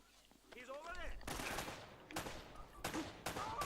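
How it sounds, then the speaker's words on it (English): Gunfire in the Uncharted: Drake's Fortune video game, with repeated bursts of automatic fire and sharp shots amid game effects, moderately loud and continuous. "They're shooting at you too, you know."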